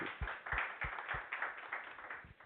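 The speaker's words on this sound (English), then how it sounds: "Let's give one more round of applause for Robert" Conference audience at SCaLE 19x in Los Angeles applauding a speaker after a talk: scattered hand claps in an uneven rhythm, moderately near, with no speech over them.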